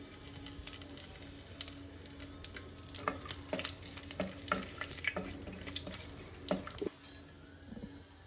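Whole spices (two cardamom pods, a cinnamon stick cut in three, four cloves and a bay leaf) fry in hot oil for Kerala coconut milk rice, giving a steady close sizzle with sharp crackles and pops scattered throughout.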